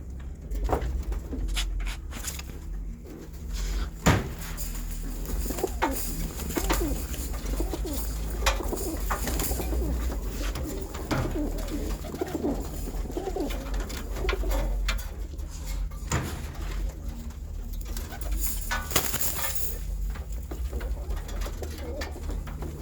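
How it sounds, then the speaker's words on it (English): Pigeons coo repeatedly at close range, soft throaty calls over a constant low hum, with scattered clicks, rustles and flapping of birds being handled. "So I'm taking the birds out of here."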